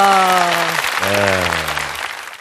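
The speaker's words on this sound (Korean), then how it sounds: "여러분 뜨거운 박수 부탁드리겠습니다" Warm audience applause fills a Korean talk-concert hall as a mentor is welcomed, loud and dense for about two seconds, with a voice crying out in delight over the clapping before it tapers off.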